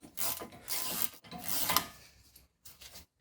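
Rear brake caliper bracket work on a 2014–2018 Jeep Cherokee Trailhawk gives close, rough rasping and ratcheting metal scrapes in two long bursts, followed by shorter scrapes and clicks, with no talk.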